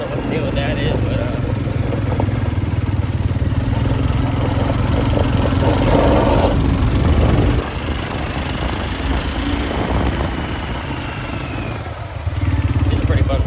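1986 Kawasaki Bayou 300 ATV engine running close by, a loud steady single-cylinder drone that rises and drops in bursts of throttle.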